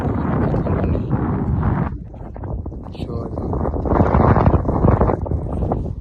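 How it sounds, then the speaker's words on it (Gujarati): Strong wind buffets the microphone in loud, rushing gusts over salt pans in the Little Rann of Kutch, with voices talking underneath. "પવન એવો જ આવે ખતરનાક"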